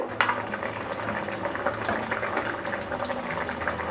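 Water for egg biryani comes to a boil in a pressure cooker, bubbling and gurgling steadily and softly up close.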